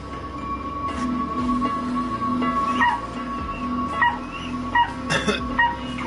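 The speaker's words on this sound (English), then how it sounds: "Minutes later, Kim heard the dog barking." A dog gives short yips and whimpering cries in several uneven bursts, set against a steady tonal background.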